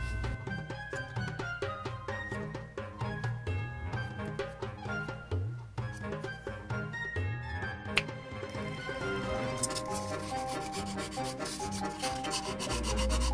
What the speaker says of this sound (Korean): 표면을 사포로 갈아서 좀 정리를 해주겠습니다.